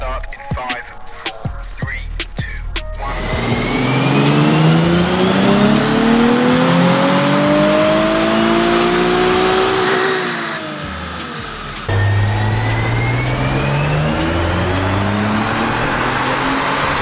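A twin-turbo car fitted with a street-legal EAC kit runs on a dyno. The engine roars loud and close, its pitch climbing steadily through a long pull, then dropping off before a second, lower-pitched run.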